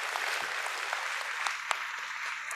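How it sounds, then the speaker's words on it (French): Applause from an audience at a meditation conference, a steady wash of clapping at moderate volume throughout, with a few sharper claps standing out. "Vous pouvez l'applaudir."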